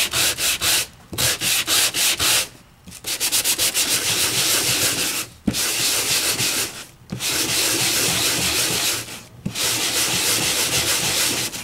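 Sanding across an embossed card laid over a reverse stencil, a loud close-up rasping scrub in long continuous strokes broken by several short pauses.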